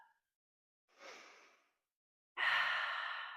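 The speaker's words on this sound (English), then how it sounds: "Open those lips and exhale." A deep breath exhaled through open lips during a low-impact at-home leg workout: a short soft inhale, then a loud, steady, breathy exhale lasting about a second, close and alone with no talk.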